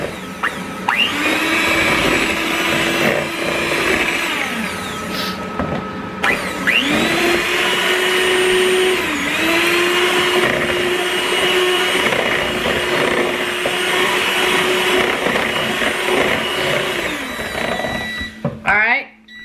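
An electric mixer runs at high speed through cake batter for a Halloween cake, whirring loudly in two long stretches with a short pause between them, close by and steady.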